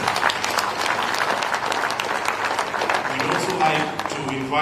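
An audience applauds at the signing ceremony of the EU-Kenya trade deal, with sustained, dense clapping that carries on strongly, and speech begins near the end.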